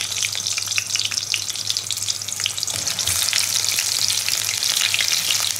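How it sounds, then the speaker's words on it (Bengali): Pointed gourds (potol), three jumbo-sized pieces, frying in hot oil in a pan, a loud, steady crackling sizzle that runs continuously throughout with no voices. "তো তেলটা গরম করে পটলগুলোকে ভাজতে দেবো।"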